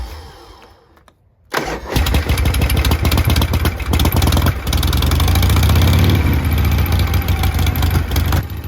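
A Shovelhead motorcycle engine with noisy lifters starts after a brief quiet moment, then runs loud and close with a rapid, uneven clattering rhythm and steady idle throb through the rest.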